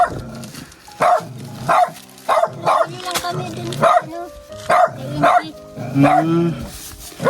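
A dog barks repeatedly at close range in short, loud, yappy bursts spaced about a second apart, with some whimpering, while people talk over it.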